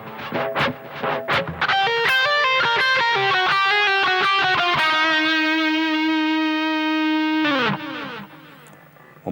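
A distorted electric guitar plays a lick from a diatonic minor scale, a few picked notes and then a fast rising run that settles on a long sustained note, loud and close with no talk.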